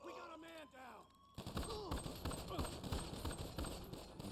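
GTA Online gunfire, a rapid run of sharp shots in quick bursts following a voice, mid-distance and fairly quiet overall, with talk around it.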